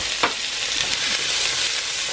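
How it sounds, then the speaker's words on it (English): Onions frying in a teaspoon of oil in a pan give off a dense, steady sizzle, with a brief scrape of stirring near the start, heard close with no speech. "Gonna stir that around."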